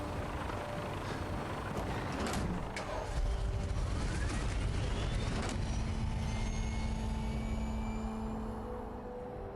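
A gunship aircraft in Fallout 4 drones loudly and steadily throughout, its engine roar mixed with rumbling mechanical noise and sharp bursts that suggest gunfire.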